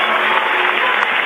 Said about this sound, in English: And the Hornet crowd is really hooping it up here